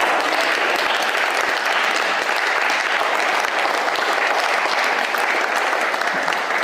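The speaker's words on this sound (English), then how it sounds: "Please, can we give a hand of applause?" A crowd at a public gathering gives a hand of applause, a loud, even roar of clapping that holds steady without pause for nearly seven seconds.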